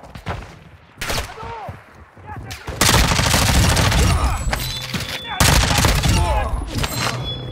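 Gunfire in a military shooter video game: scattered single shots give way to sustained bursts of rapid automatic fire, loud and close, with a voice talking over the shooting.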